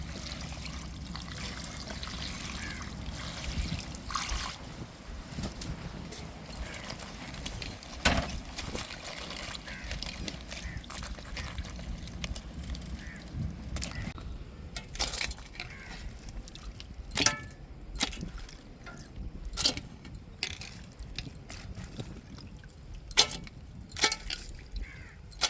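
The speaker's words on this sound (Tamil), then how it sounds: "நம்ம நல்லா நீட்டாக கழுவி எடுத்துக்கிடுவோம்." Freshly netted crabs are washed in water to rinse off mud, giving soft sloshing and trickling with scattered clicks and rattles of shells knocking together. It is faint and close, with irregular bursts.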